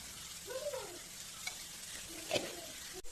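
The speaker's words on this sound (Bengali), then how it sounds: "ভালো করে ভাজা অবধি একেবারে সুন্দর করে মানে ভেজে নেবো আর কি জিনিসটাকে" Cabbage, chopped chili, black pepper and salt frying in a pan for veg momo filling, a soft steady sizzle with occasional stirring scrapes, fairly quiet and close, no voices.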